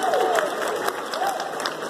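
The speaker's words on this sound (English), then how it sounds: "give yourselves a round of applause" Applause and crowd noise rise at a live tribute concert, a dense wash of clapping mixed with cheering and a faint whistle-like tone, fairly loud throughout.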